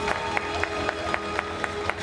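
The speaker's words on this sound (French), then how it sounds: "On peut l'applaudir." Audience at a cosplay parade on stage at the Roanne Geek Convention claps for a cosplayer, with a sharp periodic clap or beat standing out above steady crowd applause and noise.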